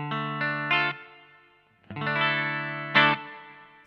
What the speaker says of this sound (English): Echo chamber.